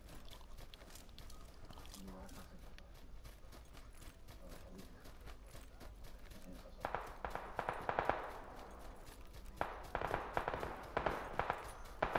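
Bursts of gunfire in the PUBG battle royale shooter on the Sanhok map, with clusters of sharp shots later on over a steady game background, while voices talk now and then.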